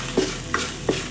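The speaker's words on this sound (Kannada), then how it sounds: "ಕೆಲವರು ಜಾಸ್ತಿ ಹುರಿಯಲ್ಲ, ನಾವು ಸ್ವಲ್ಪ ಜಾಸ್ತಿ ಫ್ರೈ ಮಾಡ್ಕೊತೀವಿ" Okra stir-fry (bende palya) is stirred in a pan with a spatula, giving three short, evenly spaced scraping strokes over a faint, steady sizzle of frying.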